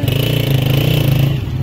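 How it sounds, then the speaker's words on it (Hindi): A motorcycle engine pulls up at a courthouse entrance gate in Pakistan, its steady low drone loud and close throughout, fading slightly at the end. "ये जुनेद भाई बाइक ला कर दिया"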